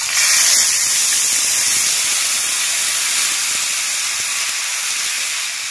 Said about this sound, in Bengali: এর মধ্যে দেবো সেই টমেটো পিউরিটা ছিল, ওটা দিয়ে দেবো